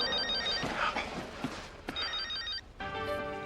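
A telephone rings in repeated electronic trills in an office, moderately loud and close, with brief pauses between bursts.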